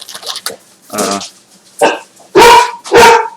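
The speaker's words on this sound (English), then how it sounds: "Pardon my dog, my security device has been activated." A dog barks close by in a handful of loud, separate bursts, the last two the strongest, with short quiet gaps and a faint whimper between.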